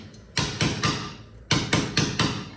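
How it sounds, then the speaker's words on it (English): A hammer strikes a rusty brake shield lip on a Supra MK4 front brake, with three close, sharp metallic blows, a short pause, then four more in an even rhythm and no talk. "I'm just gonna bend this lip back"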